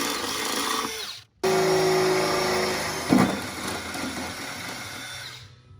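A power tool whirs steadily while setting a riv nut for a car's fuel system, briefly stopping and restarting with a sharp mechanical clunk midway before winding down.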